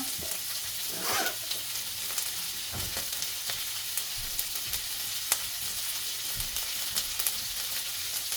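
String beans and broccoli frying in a pan for adobo, a steady broadband sizzle with occasional stirring scrapes and clinks, close and continuous with no talking.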